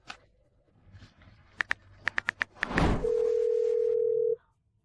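Keypad beeps dial a cellphone in a quiet room, followed by a soft rustle and then a single steady calling tone held for over a second before it cuts off.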